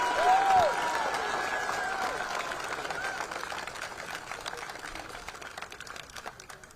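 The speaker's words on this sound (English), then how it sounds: "And listen to that crowd." A crowd at the final round of a disc golf tournament applauds in a steady, dense patter of clapping that slowly fades over several seconds, heard from a distance with faint voices mixed in.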